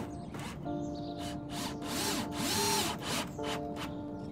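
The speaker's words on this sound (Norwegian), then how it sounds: "Skru på plass lekten i toppen av døråpningen" A cordless power drill drives screws through a wooden batten at the top of a garden shed door opening, its motor whining in repeated bursts that rise and fall in pitch, loud and close with no talking.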